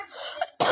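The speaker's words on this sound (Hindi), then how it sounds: "तो आप देख सकते हैं मुझे खांसी हो रही है" A single sharp cough bursts out near the mic after a stretch of quieter indoor sound, brief and loud.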